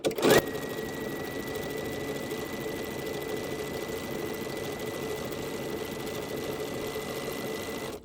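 A sewing machine stitches an embroidered design on a pumpkin wall hanging quilt, running in a fast, even, continuous hum after a brief knock at the start, close and steady throughout.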